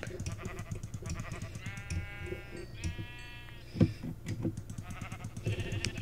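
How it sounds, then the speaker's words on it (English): Sheep bleat repeatedly inside a survival video game, several short, close cries over a low background hum, one louder thump midway. "Killing the sheep."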